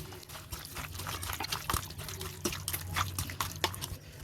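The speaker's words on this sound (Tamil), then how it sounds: "கப் அளவு தயிர் சேர்த்துப்போம். இப்போ நல்லா மிக்ஸ் பண்ணிடுவோம்." Beef is mixed by hand with yogurt, salt, ginger-garlic paste and spices, giving a continuous close squelching and wet slapping with small drips, with no talking.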